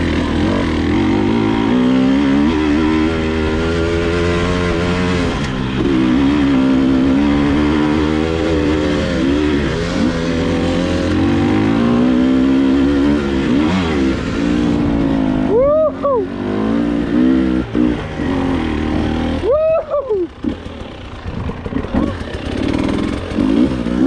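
A Husqvarna enduro dirt bike engine labours up a steep hill climb in second gear, a loud, close, continuous drone with shifting revs and a couple of sharp rising whines toward the end.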